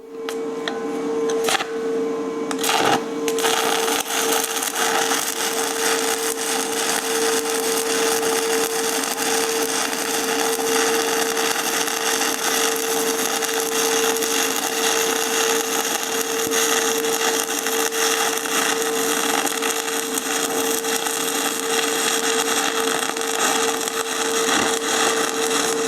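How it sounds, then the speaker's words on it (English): Stick welding with a rod, running a bead on the other side of a joint: a steady, loud crackling hiss that carries on without a break for the whole stretch. "let's run another bead on the other side and see how that works"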